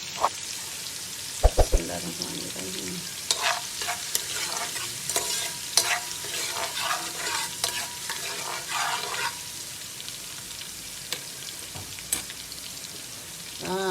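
Ginger frying in oil inside a pot for beef yakhni pulao, with a steady crackling sizzle and repeated scraping, clinking stirs of a spoon against the metal, a few sharp knocks early on.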